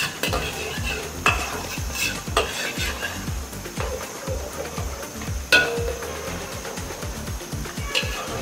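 Onions sautéing in a pan for Filipino bopis, with a steady sizzle under close, rhythmic stirring and scraping of a utensil against the pan, plus a few sharper clinks, and no talking.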